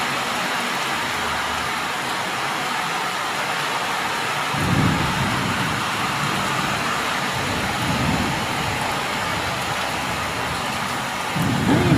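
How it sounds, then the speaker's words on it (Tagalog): Heavy rain pours steadily outdoors, a dense continuous hiss with occasional low rumbles swelling through it, loud and unbroken with no voices. "Ayan, lakas ng ulan."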